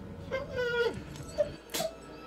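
A dog whimpering in the 2015 film Krampus, a few thin high whines and yelps rising and falling, fairly faint, amid quiet film sound.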